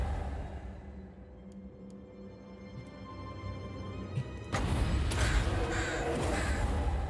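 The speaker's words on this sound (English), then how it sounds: "I hope you like the sound of crows" Crows caw in a Total War: Warhammer battle, sparse harsh calls at first under a low game rumble, then a dense, loud wash of battle noise takes over halfway through.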